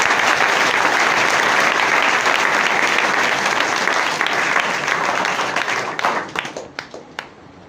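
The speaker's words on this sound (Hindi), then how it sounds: "आइए जोरदार तालियां अपने सारण के लिए।" Loud, sustained applause from a crowd cheering for Saran, dense clapping holding steady before thinning into scattered individual claps that fade out at the end.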